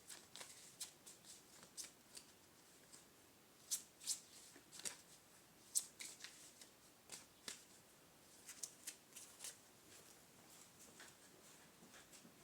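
Quiet, close-up riffling and tapping of a deck of cards being shuffled, irregular short bursts with pauses.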